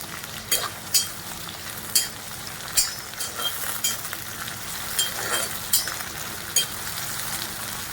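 Onion and curry leaves fry in a pan, with a steady sizzle and regular scraping stirs against the metal about once a second, close by and without speech.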